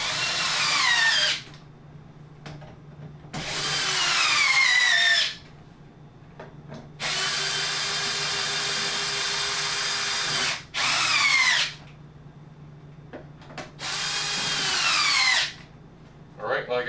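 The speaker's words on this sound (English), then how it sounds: "Now we'll snug these down with the drill." A power drill snugs down screws on an RV air-conditioner assembly mounted to a fifth-wheel ceiling, running in several loud, close bursts of a few seconds each, its whine rising and falling, with short pauses between runs.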